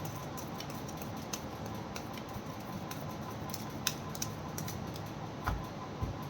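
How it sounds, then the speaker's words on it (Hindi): Tarot cards being shuffled by hand, a soft, continuous riffling patter with a few sharper snaps and taps, close and fairly quiet, with no talking. "This is my last shuffle"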